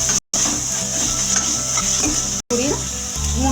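Chopped tomatoes sizzle in hot oil in a pan while being stirred for a home-style mushroom gravy, a bright continuous frying hiss with soft spoon scrapes, cut by two brief silences.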